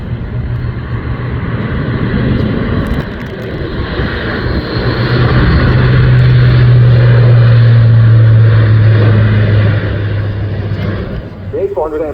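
A Luftwaffe Airbus A400M transport flies by with its undercarriage down, its turboprop engines giving a loud, swelling drone and a strong humming tone that peaks mid-pass and then eases off, with a voice partly over it.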